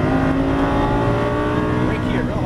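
A Lamborghini Superleggera accelerates at full throttle on a race track, its engine roaring loud and close with a steadily rising, dense note that continues without a break.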